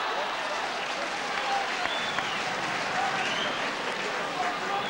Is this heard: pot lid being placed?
no